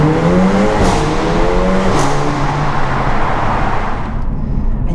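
Mercedes CLA 45 AMG engine in Sport Plus mode revs hard through rising and falling pitches, loud and close, before the roar cuts off near the end.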